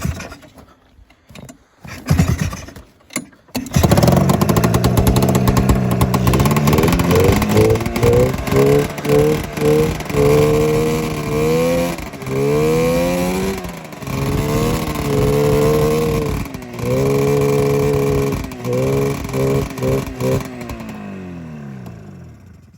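A non-running snowmobile sputters through a few rough start attempts, then catches and revs loudly and unevenly, bogging down repeatedly under throttle with a wavering, labored engine note close by.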